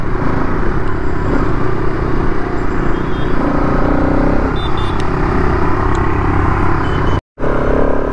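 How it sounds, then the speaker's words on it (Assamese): A new motorcycle being ridden, with a steady loud engine drone and road rumble running throughout, broken by a brief dropout near the end. "বাইকখনৰ অভাৰঅল পাৰফৰ্মেঞ্চ আপোনালোকক মজাকৈ দেখাই আছোঁ"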